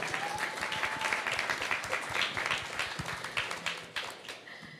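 Audience applause at a talk on Ethereum for the sex worker community, moderately loud clapping that gradually thins out and becomes sparse toward the end.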